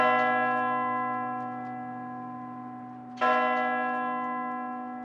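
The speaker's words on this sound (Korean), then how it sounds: "교회 종소리로" Church bells play a Christmas-version jingle with resonant sustained tones, one clear new strike partway through that rings out and slowly decays, heard alone with no talking.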